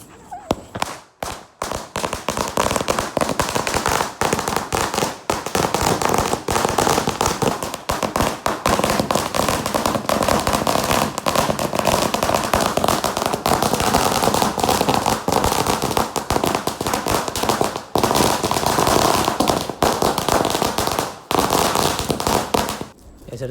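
A long string of firecrackers bursts in rapid, continuous crackling pops during a Vishu celebration, loud and dense for over twenty seconds with brief gaps near the start.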